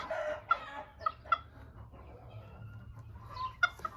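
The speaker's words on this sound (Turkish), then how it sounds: "Seramalarımızı dışarıya çıkardık." Serama ornamental chickens cluck softly outdoors in a garden, with a few sharp, separate clucks rising over a quiet background and no voices.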